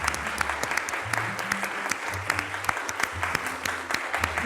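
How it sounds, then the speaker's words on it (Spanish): Steady audience applause at a children's theatre show, a dense patter of many hands clapping, with faint voices and murmuring underneath. "vamos a darle un aplauso a Berta Iriart"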